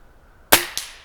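Two sharp shots from a Gamo Varmint Hunter air rifle fired outdoors, a loud crack followed about a quarter second later by a softer second report, with quiet before.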